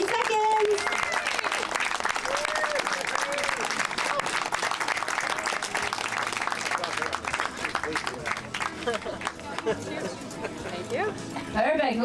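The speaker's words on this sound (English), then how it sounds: "We'll give one more big round of applause." An outdoor crowd claps for runners finishing a trail race at an ecolodge near Mattawa, Ontario, with dogs barking among the clapping and people talking.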